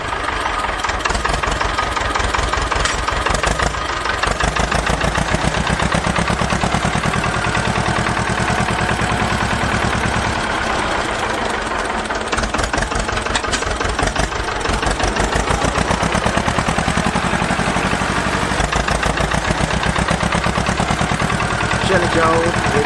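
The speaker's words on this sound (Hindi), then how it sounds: "इस रास्ते से जाएगा हमारा मिनी ट्रैक्टर। देखो कितना चढ़ाई है।" A mini tractor engine drives up a steep slope, a loud, continuous chugging drone with rapid knocking pulses that holds steady without a break for the whole span.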